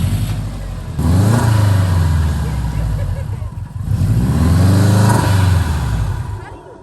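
A 300-horsepower Subaru WRX engine revs hard as the car pulls away on a hill after a stall, with two loud surging rev climbs and a brief dip between them. People talk over it.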